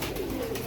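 Pigeons cooing, a single short, soft low coo over steady background noise.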